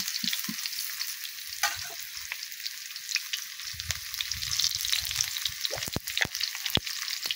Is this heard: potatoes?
yes